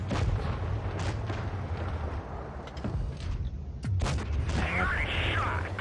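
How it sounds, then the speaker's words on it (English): Tank cannon fire from a World of Tanks Blitz clan platoon battle, with several heavy booming shots and rumbling blasts in quick succession over continuous engine and battle noise. "Good shot to the Leopard prototype."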